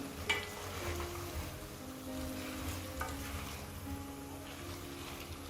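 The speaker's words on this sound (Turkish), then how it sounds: "3 dakika haşladığım bürüksel lahanalarımı yemeğimin içine ekliyorum. Tekrar karıştıralım." Boiled, peeled Brussels sprouts stirred into a simmering dish in a pot, a steady soft sizzle with light scraping and wet stirring throughout, a small clink near the start.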